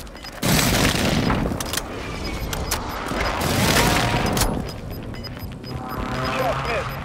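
Airstrike explosions in Warzone 2.0 open with a sudden loud boom, followed by a long rolling barrage of blasts and rumbling debris, close and heavy, with game noise and some voice over the top.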